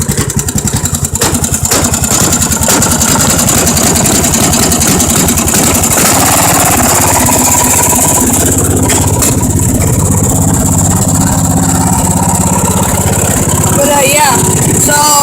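A push mower or small tractor engine idles just after start-up with a rapid, uneven putter, close and loud, while a person talks over it.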